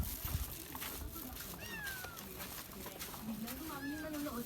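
A cat meows twice in rising, drawn-out calls amid outdoor background noise, with people talking nearby.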